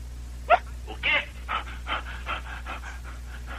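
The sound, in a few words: heavy breathing over the phone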